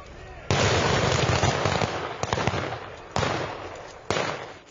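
A commemorative fireworks salute for fallen Soviet soldiers: several sharp booming bursts followed by crackling, sounding from a distance at uneven intervals.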